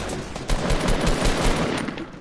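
Gunfire in a shooter video game: rapid bursts of automatic shots, loud and close, hammering in quick succession for a couple of seconds.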